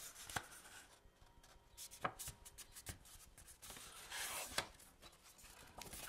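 A half sheet of card is folded in the middle and creased, giving soft papery rustles and several sharp crisp snaps, close and quiet with no talking.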